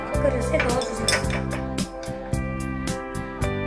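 Pieces of fruit drop into a dog's food bowl already holding ice and water, producing a series of bright ringing clinks at a fairly even pace, close up.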